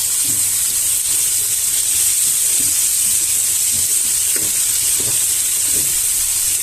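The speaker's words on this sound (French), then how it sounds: "Donc là, les oignons ont commencé à caraméliser. Je vais venir y ajouter les lentilles que j'ai fait cuire au préalable dans l'eau." Onions and lentils frying together in a pan, a steady close sizzle with soft intermittent stirring taps and a constant high hiss throughout.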